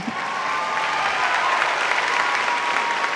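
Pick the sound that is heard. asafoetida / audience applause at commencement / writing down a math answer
audience applause at commencement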